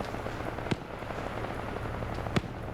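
Two sharp gunshot cracks in a PvP video game match stand out over a steady low rumble of game ambience, one early and one near the end, with faint crackle between.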